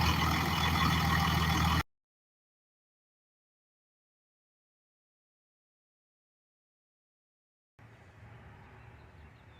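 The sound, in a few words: loud truck engine running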